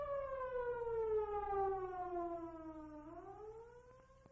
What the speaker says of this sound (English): Always yield to emergency vehicles sounding their sirens or other signaling devices.